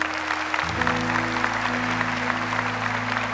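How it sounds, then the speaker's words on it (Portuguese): Congregation applause inside a Catholic church, a steady dense wash of clapping throughout, with a sustained low organ-like tone underneath. "Aplauda a sua igreja católica."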